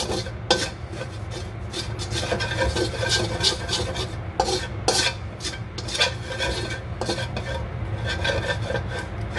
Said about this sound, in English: just keep frying it till it turns brown